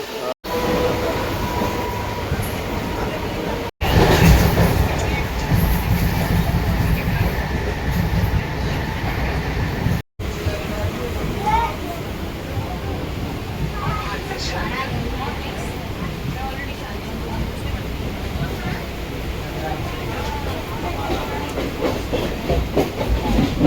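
Steady rumble and hiss from inside a moving passenger train bound for Mumbai, continuous wheel and carriage noise throughout with brief dropouts, and someone talking over it.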